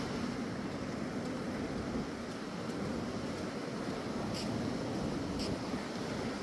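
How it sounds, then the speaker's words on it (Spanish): Surf rolls in continuously at Arroyo Seco, a solitary beach near Mar del Plata, Argentina, a broad steady wash of sea waves mixed with wind noise and no voices. "vamos a ver si las olas nos dejan pasar por acá."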